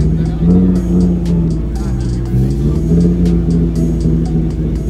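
A car engine with the resonator and muffler removed revs in a raw, droning tone, holding steady near throttle under chatter from people nearby.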